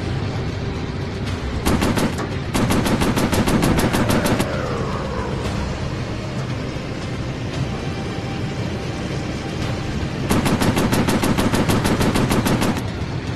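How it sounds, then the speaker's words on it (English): Rapid bursts of machine-gun fire in a warplane combat video game, three sustained volleys separated by pauses, loud over a constant aircraft engine drone. "Machine gun's overheated."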